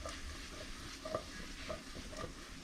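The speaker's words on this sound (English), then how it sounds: "I'm gonna swirl my onions a little bit" Chopped onions with cumin seeds fry in a hot pan on the stove and are swirled around, giving a steady close sizzle with soft scraping and stirring clatter throughout, with no one talking.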